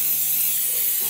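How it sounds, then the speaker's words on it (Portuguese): A spray paint can giving a piece a full coat, a steady close hiss that runs unbroken for about a second before cutting off. "esse aqui é bem bom, esse spray"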